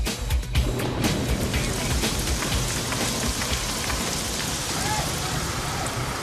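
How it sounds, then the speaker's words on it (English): Heavy rain pours steadily, a dense continuous hiss with pattering drops, loud and close throughout with no voices. "Then the rain comes, so we have to work with the rain, and it's coming down quite hard"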